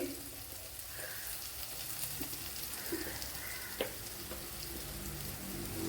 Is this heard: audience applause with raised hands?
no